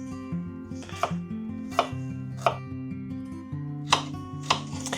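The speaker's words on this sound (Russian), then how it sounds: "В первую очередь из овощей я порежу лук," A knife chops onion and carrot on a board for soup, with a run of sharp, evenly spaced cuts coming close and clear over steady background music, with no talking.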